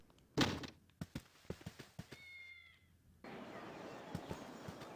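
Cats meowing in Baldur's Gate Enhanced Edition on Switch, a couple of short meows among several sharp thunks and knocks, followed by a shift to a busier ambient background.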